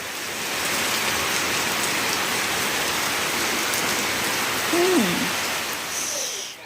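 Continuous monsoon rain that has poured through the night keeps up an even, close hiss of drops on surfaces. A short voice-like tone rises briefly near the end.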